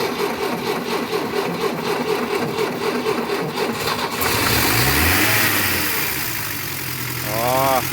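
An engine starts on the fourth try with a cranking whir, then settles into a steady idle hum. A voice talks near the start.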